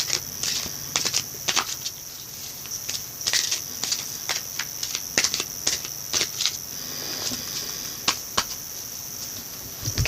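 An oracle card deck being shuffled, with a run of quick, close riffling clicks in bursts, faint and steady, over a thin high background hum.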